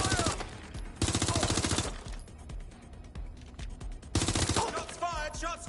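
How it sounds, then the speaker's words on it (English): Automatic gunfire in the video game Watch Dogs: Legion, rapid loud bursts of machine-gun fire in several rattling volleys separated by shorter gaps and scattered single shots. "Shots fired!"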